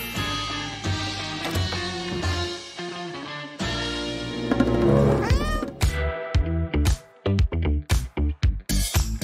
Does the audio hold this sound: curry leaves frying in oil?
no